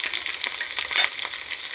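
Crushed garlic and curry leaves sizzle in hot oil for a dal tempering, a dense, close crackle with bright spitting pops and light stirring, no talking.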